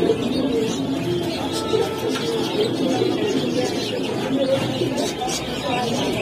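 Pigeons coo steadily at a busy pigeon market in Kaptan Bazar, Dhaka, the soft calls blending into constant crowd murmur and market bustle with voices throughout.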